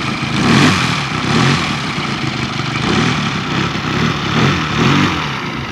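A Toni Clark VM-140 140cc four-stroke model airplane engine in a 42% RV4 replica idles at the lowest idle setting with a steady, loud, throbbing chug that pulses rhythmically throughout.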